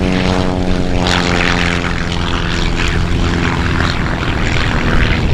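A propeller airplane takes off at EAA AirVenture Oshkosh, its engine roaring loud and close with a steady, droning buzz throughout.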